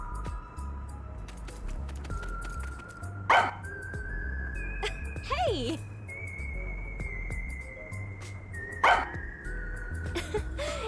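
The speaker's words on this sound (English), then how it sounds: "I looked around and noticed Sugar barking at this room." Sugar, a dog in the Rain Code video game, barks twice in sharp bursts several seconds apart over a soft game soundtrack, with a quick shouted interjection from a voice.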